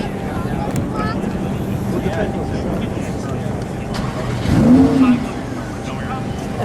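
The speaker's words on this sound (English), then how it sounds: "Let's start it up just to show what and we'll close the engine compartment." A black 2017 Lamborghini Huracan V10 starts up, giving a brief, rising engine flare about two-thirds through. Someone talks throughout under a steady wind-like rumble.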